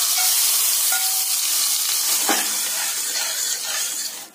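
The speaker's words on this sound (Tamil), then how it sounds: "முந்திரி தேங்காய் பாருங்க நல்லா பொன்னிறமா வதக்கியாச்சுங்க இந்த நெய்யோட அப்படியே இந்த பருப்புல சேர்த்திடுங்க" Ghee-fried golden cashews and coconut tipped into cooked chana dal for kadalai paruppu payasam, giving a steady loud sizzle with hiss and a brief splash or clink midway, alone without talk.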